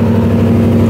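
An LS V8-swapped FD RX-7 idles with a loud, steady low rumble and a deep even throb, close up and constant throughout.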